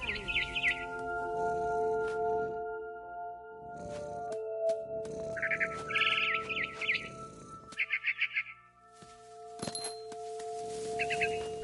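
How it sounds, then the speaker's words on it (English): Barn swallows chirp and twitter in short, rapid bursts that come and go, fairly close, with occasional clicks and knocks in between. "Then I heard chirping outside my window. It was a barn swallow going back to her nest."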